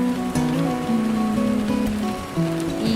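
Heavy monsoon rain pours steadily, a dense continuous hiss of drops hitting surfaces, with faint tonal notes running underneath and no voices.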